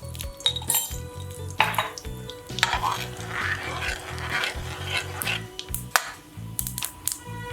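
Fenugreek and mustard seeds sizzle in hot mustard oil, a steady crackling fry close by, broken by regular clanks of a metal spoon stirring in the pan.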